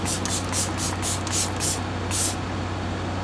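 A sprayer bottle of makeup setting spray lets out about eight short, quick mist bursts in a steady rhythm, each a soft close hiss over a low background hum.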